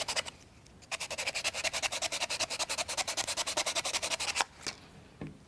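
Rapid, regular back-and-forth sanding strokes on a small U-9 Grand Prix model car part, steady scratchy rhythm for about three and a half seconds, then a couple of isolated rubs, fairly quiet and close.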